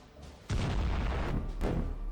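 A Bradley armored vehicle fires in support of advancing infantry in a combat zone, with one sudden heavy boom followed by a second blast over a rumbling, sustained roar.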